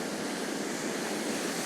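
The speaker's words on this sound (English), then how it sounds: "I can hear water." Water rushes as a steady, distant roar of broadband noise from deep within the Hull Pot abyss, a 200-foot chasm in the English countryside, with some wind noise mixed in.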